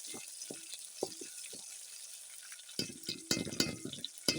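Green chillies frying in a pan give off scattered soft crackles and sizzles, quiet and intermittent at first, then growing busier with denser popping bursts toward the end; no one speaks.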